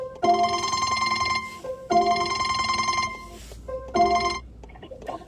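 A phone rings with an incoming call, a bright electronic ringtone repeating in three loud bursts with short gaps between them and no talking.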